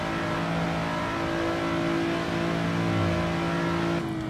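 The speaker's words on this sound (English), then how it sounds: "you're just basically stomping on it, and you're holding gas pedal down and making your moves" A slammed Nissan 400Z (Z34) with about 400 hp, driven in a racing video game while swerving through traffic, its engine held at loud, steady high revs under acceleration and easing off near the end, with no voices.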